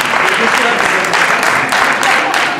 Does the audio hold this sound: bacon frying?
no